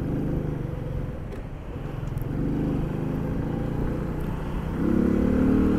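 A 2024 Sanya X1000 motorcycle engine runs close by, a steady low rumble with engine pitch that swells in two revs near the middle and near the end, with no voices.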